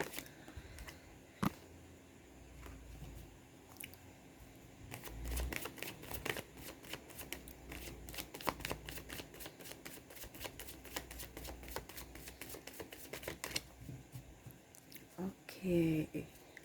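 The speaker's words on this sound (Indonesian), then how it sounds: "Oke, saya kocok kartu dulu." Tarot cards are shuffled close up in long runs of quick, crisp riffling and slapping, with brief pauses between bursts and quiet ambient hiss.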